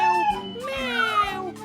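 An old cat's lamenting meow, drawn out and wavering, with several rising and falling tones close by; a voice tells the story underneath.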